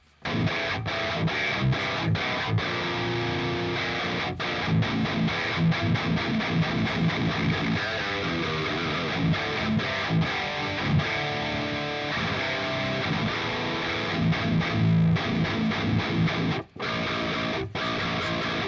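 Heavily distorted electric guitar through an amp simulator plays a continuous riff, loud and dense, with a brief cutout near the end.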